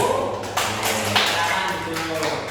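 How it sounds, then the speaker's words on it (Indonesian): A classroom group claps for the first group of students in an Indonesian teacher-training lesson, with steady applause running under a teacher's voice. "Oke, tepuk tangan untuk kelompok satu."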